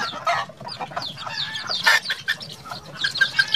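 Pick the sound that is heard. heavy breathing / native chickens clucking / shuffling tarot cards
native chickens clucking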